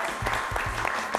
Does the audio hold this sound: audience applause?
yes